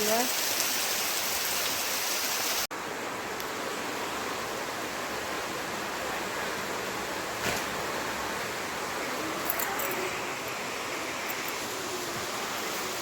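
Steady, heavy rain pours down, a dense, constant hiss of water striking surfaces with no breaks, close and loud throughout.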